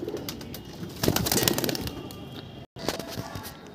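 Pigeons in a loft where birds are kept for sale, with cooing and a burst of wing flapping and fluttering close by, busiest in the middle before a brief gap.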